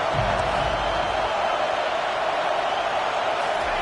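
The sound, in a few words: football stadium crowd cheering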